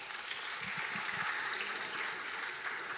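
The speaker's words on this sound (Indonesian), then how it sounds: "Tepuk tangan lagi dong." Steady applause from an audience at a youth rally, a continuous clatter of many hands clapping at moderate distance, fairly quiet and unbroken for a few seconds.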